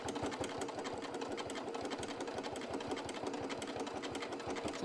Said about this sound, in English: Just kind of take it slow as you're going around that curve. Let the machine do the pulling.